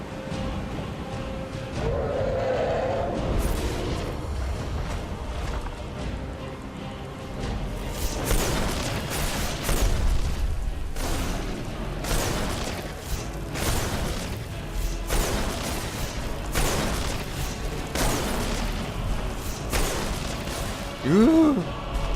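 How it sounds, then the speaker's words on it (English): Shock spell blasts in the Skyrim video game, rendered as a run of sharp gunshot-like cracks, several loud bursts scattered through ongoing game noise with a voice talking over parts of it. "Shock sounds more like gunshots than anything."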